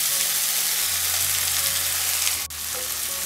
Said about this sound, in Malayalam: തക്കാളി ചേർത്ത് കൊടുത്തതിന് ശേഷം പിന്നെ നമുക്ക് നന്നായിട്ടൊന്ന് വഴറ്റി കൊടുക്കണം.